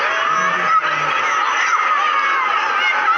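A large crowd at a cricket stadium for the India champions versus Pakistan champions final roars continuously, with loud cheering, shouts and whistles blended into one sustained wall of noise.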